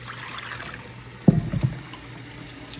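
Tap water runs steadily as a soaked smoothie ingredient is rinsed, with a brief burst of splashing and gurgling near the middle before it settles back to a soft flow.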